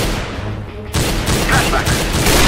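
Rapid rifle fire in a Counter-Strike: Global Offensive competitive match bursts out loud and close after a quieter lead-in, a dense volley of shots continuing to the end.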